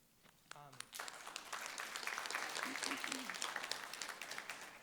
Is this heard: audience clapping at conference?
yes